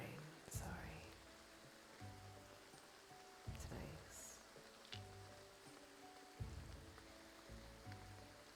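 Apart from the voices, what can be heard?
rain sounds in Graveyard Keeper video game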